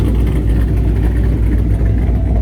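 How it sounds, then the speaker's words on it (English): Hemi-engined car leaving a car meet, a loud, sustained engine growl with a rough low pulse that stays strong throughout, heard up close with no talk. "I want to hear this Hemi thing take off"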